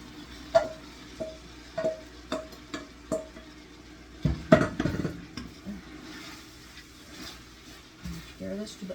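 Celery, onions, carrots and green peppers sautéing with veal for a cassoulet: a rhythmic series of spoon clinks and stirring scrapes over a gentle sizzle, with a louder clatter midway and some talking.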